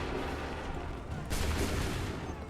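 A musket volley in Assassin's Creed III: a dense, loud crackle of many muskets firing almost at once, which swells briefly and then rolls on as a sustained roar.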